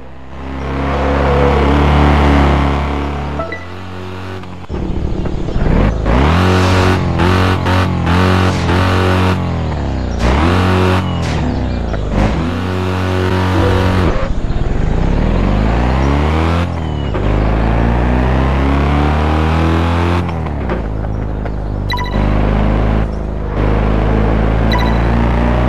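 Car in the Test Drive Unlimited 2 racing game on Xbox 360 driving through a bend and braking to a stop, with a loud continuous engine drone that rises and falls in pitch as it revs, shifts and slows, with no talk.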